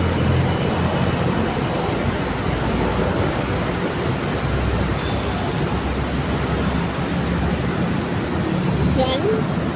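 Heavy road traffic on EDSA produces a steady, loud roar of engines and tires without letup, with a voice talking over it.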